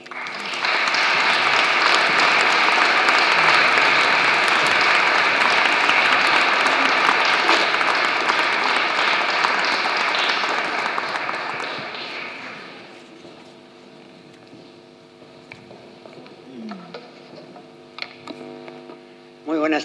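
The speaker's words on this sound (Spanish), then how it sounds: "Recibámosla con un cariñoso aplauso." Warm audience applause at a Christmas proclamation event in Guadalajara, loud and sustained for about twelve seconds before tapering off into a quieter hall with scattered sounds.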